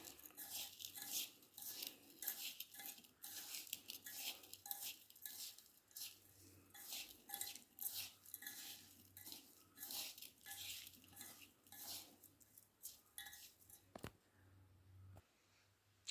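A spoon stirring grated coconut, cardamom and jaggery into sweet poha (aval) in a pan gives a quiet, steady run of rhythmic metallic scrapes and clinks, ending in a brief sharper knock.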